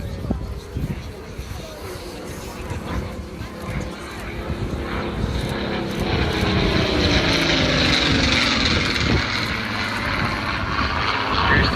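Supermarine Spitfire piston-engined fighter flying at the Southport airshow, a propeller engine drone rising steadily in loudness as it passes, heard under a commentator's voice.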